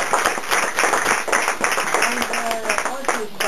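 Applause from an audience at an indoor presentation: a burst of many hands clapping together, dense and close, with voices and cheers mixed in.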